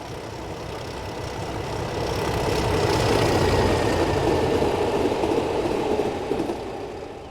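A Class 37 diesel locomotive runs past with a steady engine drone and rolling rail rumble that swell to a peak midway and then fade slightly, heard alone without voices.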